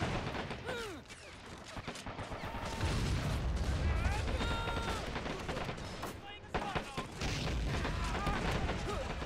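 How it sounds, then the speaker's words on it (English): Mortar shells firing and landing in the Men of War: Assault Squad 2 video game: repeated muffled thumps and booms over a dense battlefield din, with someone talking over them. "I think I really start to pound away with my mortar here. Watch it come down."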